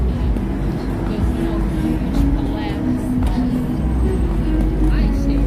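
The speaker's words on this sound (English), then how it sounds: "That car is really loud." Loud music booms from a car's speakers on a city street in New York's Upper West Side. Bass-heavy tones pulse under traffic noise and nearby people talking.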